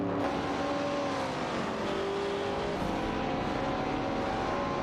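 Racing cars in a video game, including a Porsche 904 and a Holden Monroe 73, roar in a dense, continuous engine drone that shifts in pitch as the cars jostle, with occasional tire squeal and no talking.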